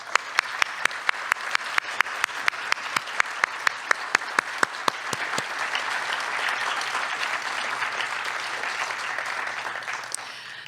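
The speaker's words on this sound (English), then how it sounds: "Let's give them a round of applause." At a state poetry recitation final, an audience gives a round of applause, opening with a few sharp, evenly spaced rhythmic claps that swell into dense, sustained crowd clapping filling the room.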